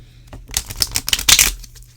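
Large oracle cards from a Sacred Traveler Oracle deck are cut-shuffled by hand, making a quick run of papery flicks and rattling clicks that swell into a dense burst, then fade.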